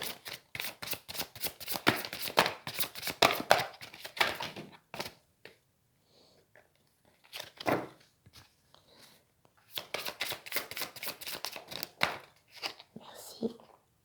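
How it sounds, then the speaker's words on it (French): Oracle cards being shuffled and drawn during a tarot-style reading, with rapid riffling flutters in bursts separated by pauses, close and crisp, without speech. "On me dit de tirer une troisième carte."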